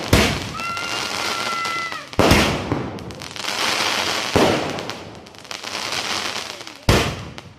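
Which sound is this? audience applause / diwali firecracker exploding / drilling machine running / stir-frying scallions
diwali firecracker exploding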